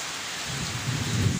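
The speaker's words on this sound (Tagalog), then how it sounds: "At malakas na naman, nagpalakas na naman ang ulan." Heavy rain pours steadily on surfaces outdoors with low rumbling thunder building toward the end, loud and continuous with no talking; a motorbike stands soaked nearby.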